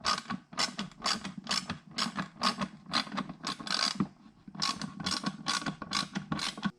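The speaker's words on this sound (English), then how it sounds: "I can actually put a full-size ratchet and 7mm socket up in here to tighten these down" A full-size ratchet with a 7mm socket tightens bolts on the rear bumper of a C7 Corvette, giving rapid repeated bursts of clicking in steady strokes with brief pauses. The sound is close and clear, and no one speaks.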